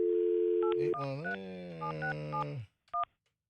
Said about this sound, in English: Let's get Scuba Rich on the phone